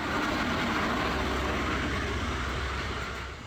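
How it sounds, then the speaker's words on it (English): A classic British Rail HST high speed train from Penzance arrives, with a loud, steady rumble of engine and wheels close by that holds for several seconds and then eases slightly at the end. No voices. "Here comes my train from Penzance. This is the classic HST, with those letters standing for High Speed Train."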